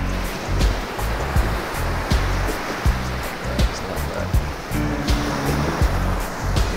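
Ocean waves wash steadily onto the beach at Morant Bay, Jamaica, a continuous loud surf roar with repeated soft crashes of breaking water, close by, with no talk.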